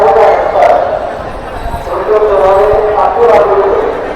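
A busy market crowd in Shirdi fills the space with a loud, dense murmur of many voices, shouts and footsteps, and people talk close by throughout.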